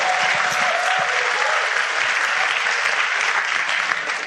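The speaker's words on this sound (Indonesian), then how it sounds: "aplaus dulu" Steady, dense audience applause fills the room for a few seconds at a business seminar, loud and continuous with a slight fade at the end.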